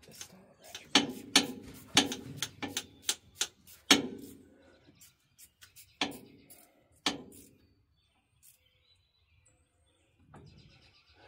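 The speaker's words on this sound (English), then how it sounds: "hate this style of ratchet" A hand ratchet wrench clicks while turning bolts during parts installation, a close run of sharp, rapid ratcheting bursts in uneven spurts, then a few isolated clicks before quiet.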